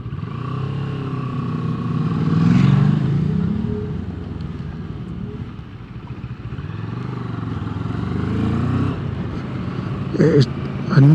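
A Moto Morini Seiemmezzo 650 Scrambler motorcycle pulling away and accelerating gently, a steady mid-loud engine drone that rises and eases, heard from the rider's position with someone talking over it.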